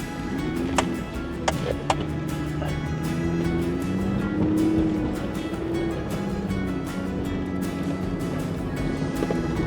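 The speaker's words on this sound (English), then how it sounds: "Wheeling tires on the rocks and up this big giant face." Off-road vehicle wheeling its tires over rocks and up a big rock face, a continuous loud engine drone with rumbling and a few sharp knocks early on, heard close.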